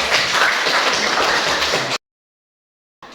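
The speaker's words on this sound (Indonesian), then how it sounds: "Oke, tepuk tangan dulu." Classroom of students applauds in a dense, loud burst of many hands clapping for two seconds, then cuts to silence before a brief return.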